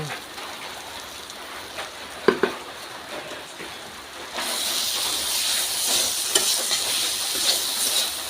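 Boiled potato frying in a pan starts as a quiet sizzle with a couple of sharp stirring clacks. Around the midpoint it swells into a louder, hissing fry that keeps going with occasional scrapes. Close, with no talk.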